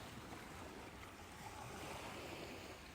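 Ocean waves wash in a continuous, even hiss of surf with soft wind over it, steady and distant-sounding, quiet and without any talking.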